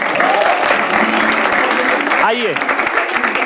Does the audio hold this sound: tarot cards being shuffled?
no